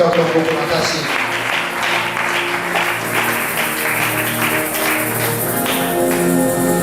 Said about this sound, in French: Est-ce que tu peux acclamer pour les Seigneurs?